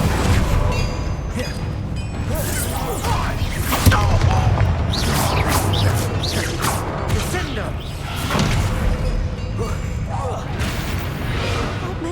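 Bombarda spell explosions in Hogwarts Legacy combat, booming thuds and whooshes layered in a loud, continuous battle mix with spell effects, while a voice talks over the action.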